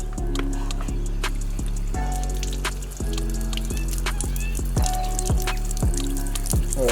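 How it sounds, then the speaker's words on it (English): Water sheets and trickles off a freshly washed Jeep SRT treated with Bowden's Own Happy Ending, a steady run of drips and splatters lasting the whole stretch, close by and fairly loud, with no talking. "So I'm just going to go along now and sheet all the water off the car."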